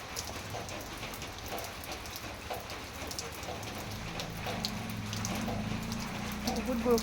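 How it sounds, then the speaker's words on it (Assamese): Heavy rain falls outside in a dense, steady patter on surfaces, growing slightly louder toward the end, with a person faintly audible in the background. "কিমান বৰষুণ চাই"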